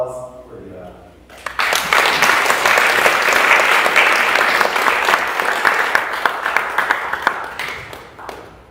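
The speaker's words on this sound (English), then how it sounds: "Please give them a warm welcome and a round of applause" A crowd at a spiritual center bursts into warm applause after a brief lead-in, the dense clapping holding steady and loud for several seconds before easing off.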